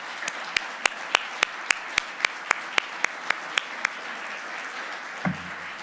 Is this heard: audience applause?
yes